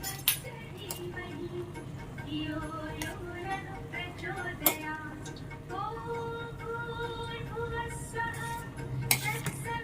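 Boiled spinach goes into a pot of ice water in a home kitchen, heard as scattered clinks and knocks of utensils, ice and metal pot, with someone talking throughout.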